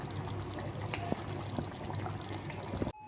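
Water is poured into a simmering varutha coconut onion kuzhambu with tamarind and salt in a home kitchen, giving a soft, continuous splashing trickle for about three seconds before it stops abruptly.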